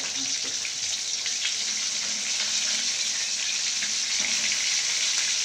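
Gourami fish frying in used cooking oil gives a steady, dense sizzle that crackles evenly and close by throughout, with faint kitchen clatter beneath.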